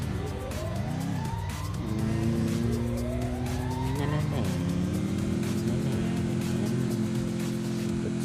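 Car in Free Fire, stuck and revving hard, engine pitch sweeping up and down with tire squeal, loud and continuous while a voice talks over it.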